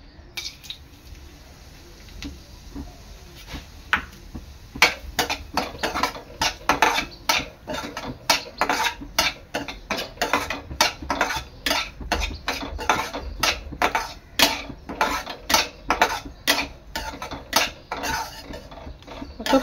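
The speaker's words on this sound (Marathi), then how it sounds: "आता यामध्ये मी आपला रवा आहे ना तो भाजून घेणार आहे" Semolina (rava) roasting in hot ghee in a pan for karanji, stirred with a metal spoon that scrapes and clinks against the pan in a steady, fairly rapid rhythm over a soft background sizzle.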